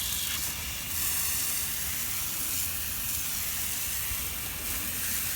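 A garden hose sprays a steady, hissing stream of water onto a very dirty Maserati wheel rim, a continuous close-up wash with no pauses and no voices.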